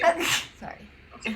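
A single quick sneeze bursts out close to the microphone, followed by a person speaking briefly.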